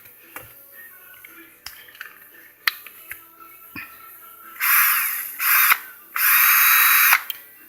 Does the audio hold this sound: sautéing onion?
no